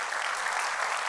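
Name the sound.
congregation applause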